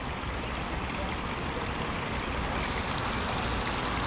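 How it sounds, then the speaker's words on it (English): Water from a waterfall at Villa d'Este flows in a constant, dense rush of splashing, loud and close, filling the whole stretch with no talk over it. "This water comes from a waterfall way up there"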